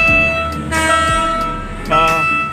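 Horn of a passing train at a rail crossing in Bicutan, Taguig, Metro Manila, two loud sustained blasts separated by a gap, over rumbling train and street noise close by.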